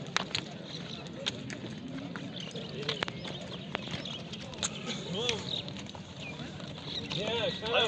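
Kyrgyz horses at a livestock market, their hooves clopping on the ground in irregular clusters and steps, fairly faint beneath ongoing speech and the murmur of the market crowd.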